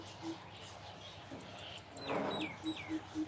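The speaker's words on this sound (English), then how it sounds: "Hear the bird?" A bird calls outdoors in the Catskills, New York, after rain, with a few quick descending chirps and short repeated notes fairly faint against a quiet background, following a soft voice earlier.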